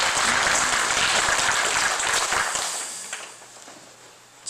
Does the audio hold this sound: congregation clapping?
yes